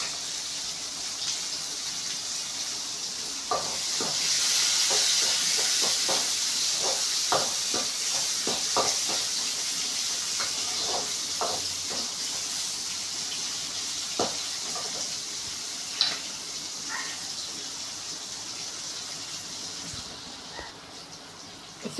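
Onions sizzling in a pan of hot oil with mustard seeds and urad dal, a steady broad hiss broken by scattered pops and crackles and the scrape of stirring, heard close.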